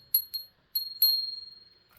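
A small gong-shaped souvenir keychain from Japan gives four light, high metallic tings in quick succession in a quiet room, the last ringing out briefly before fading.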